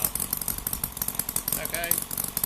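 An OS IL300 conversion engine is revved as the throttle is pulled, giving a rough, pulsing motor note with rapid rhythmic bursts close by.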